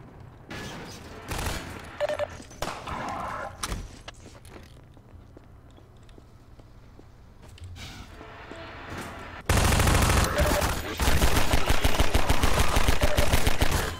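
Gunfire against enemies in Half-Life 2 Episode 1, scattered shots at first, a quieter stretch, then loud sustained rapid automatic fire at the end.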